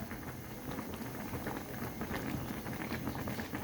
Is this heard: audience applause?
no